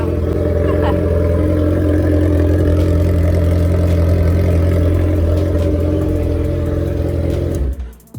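A 2022 Suzuki Hayabusa motorcycle fitted with a Voodoo exhaust runs loud and close, a deep, steady rumbling drone with slight swells that cuts off near the end.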